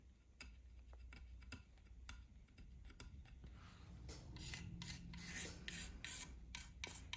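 The neck of a vintage 1969 Fender Telecaster gets sanded by hand, a faint, steady rasping rub with short scratchy strokes and small ticks, alone, growing slightly louder toward the end.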